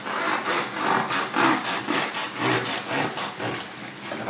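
A knife saws gently through a loaf of fresh homemade bread, a close, rhythmic scraping of back-and-forth strokes across the crust, with no talk.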